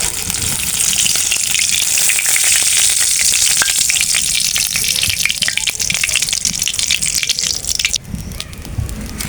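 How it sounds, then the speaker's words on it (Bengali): Bay leaves and cumin seeds sizzle loudly in hot leftover oil from frying tilapia in a wok, giving a dense, continuous crackling spatter that eases briefly near the end. "তেজপাতা আর জিরা ফোড়ন দিয়ে দেব।"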